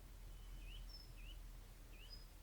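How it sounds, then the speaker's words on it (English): Birds in a garden give a few faint, quick chirps and short whistled calls, distant and sparse over a low background hum. "I can hear the birds singing"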